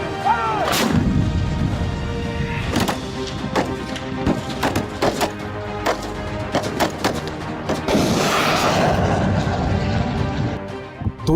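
Indian and US army weapons firing at the Mahajan firing range near Bikaner during a joint exercise, a rapid series of sharp, loud artillery and gunfire reports with some overlapping bursts and echoing tails throughout.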